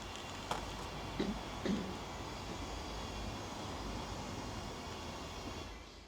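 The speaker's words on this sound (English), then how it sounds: "I can still hear the high-pitched whine of the Neo, but the Flip is definitely the louder of the two." Two small drones, a DJI Flip and a DJI Neo, hover nearby with a faint, steady high-pitched whine and hum, with a few soft knocks early on and no voices.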